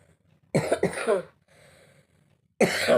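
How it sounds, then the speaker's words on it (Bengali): A woman coughs in two quick harsh bursts, pauses with a faint breathy rasp, then coughs loudly once more, close and alone in a quiet room. "আবার কাশি হচ্ছে"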